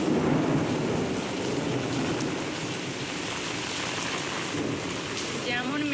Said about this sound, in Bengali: যেমন মেঘ ডাকছে তেমন বিদ্যুৎ চমকাচ্ছে।